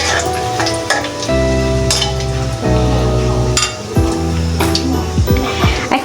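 Bay leaves and dried chili sizzle in hot oil for a Bangladeshi hilsa pickle, with steady close frying hiss, a few metallic stirring clinks, and louder bursts as the spices are stirred through.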